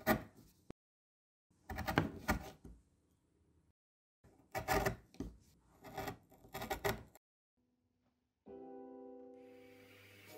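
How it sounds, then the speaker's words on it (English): A homemade rasp files the rounded plywood corners of a cajon in several close bursts of rough scraping strokes with pauses between them, followed by a different tonal machine hum at the end. "sanded them to fit with a homemade rasp"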